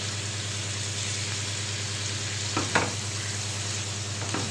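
Onion and garlic sizzle steadily in a hot pan for liver shawarma, with a constant frying hiss and a couple of brief stirring scrapes partway through.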